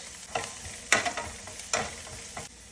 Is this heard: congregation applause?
no